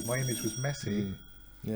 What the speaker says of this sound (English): Sorry, that was my doorbell.